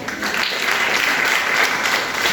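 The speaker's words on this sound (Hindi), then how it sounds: "तालियां बजती रहनी चाहिए उन छात्राओं के उत्साहवर्धन के लिए" Steady, dense applause rings out from a crowd at a girls' college ceremony honoring student council office bearers, continuous and loud throughout.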